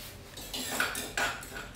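Curry paste stirred in a pot for an Isan-style red ant egg and wild sweet leaf curry, with a few soft metallic scrapes and clinks of a utensil against the pot, quiet and close.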